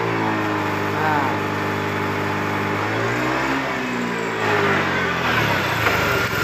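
A Honda Beat scooter engine revs loudly and close, rising and sagging unevenly as it hesitates and stumbles under throttle, with someone talking over the running engine.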